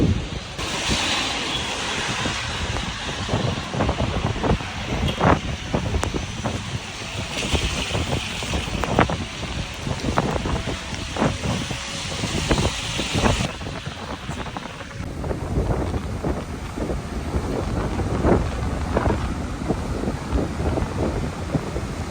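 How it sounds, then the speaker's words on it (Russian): Strong gusty wind and heavy rain during winter in Batumi, a steady roaring wash of wind buffeting the microphone, with surging gusts and constant patter of rain throughout, loud and close. "дождь льет, ветер очень сильный, порывистый"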